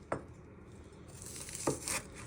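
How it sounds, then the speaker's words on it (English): Knife chopping spring onions on a board for pork fried rice, giving two or three sharp, separate cuts over a quiet kitchen background. "you keep carrying on till you've chopped all your spring onions"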